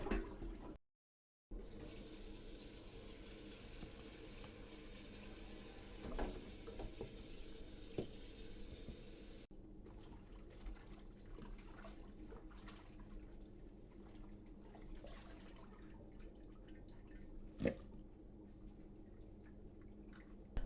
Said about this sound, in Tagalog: Medyo hugasan lang natin maigi.